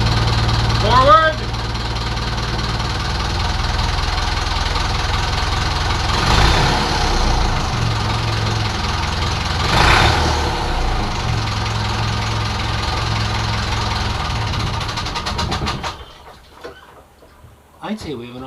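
A restored wooden boat's inboard engine runs steadily in forward gear, a loud continuous mid-pitched drone for most of the time before it suddenly drops away near the end, with a brief higher sound early on.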